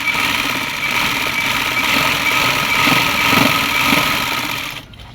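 Sewing machine stitching a seam along the lower side of a pocket on palazzo pants, running in a continuous loud, close whir for about five seconds before stopping abruptly, with no talking.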